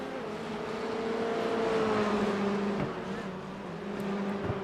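A Formula 4 race car on a circuit, its engine a steady, fairly distant drone that rises and falls slightly in pitch as it gets going again after a slide, with no voices.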